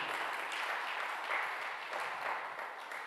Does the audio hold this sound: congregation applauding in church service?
yes